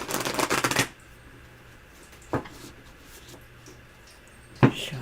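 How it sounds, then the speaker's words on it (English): Tarot cards are shuffled in a quick run of riffling snaps, then two short, isolated card sounds follow after a quiet pause, close by. "Shuffle."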